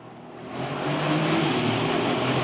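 A Bentley Continental GT Speed engine revving as it shifts down through the gears, heard from inside the cabin with the windows up, a steady roar that swells louder partway through.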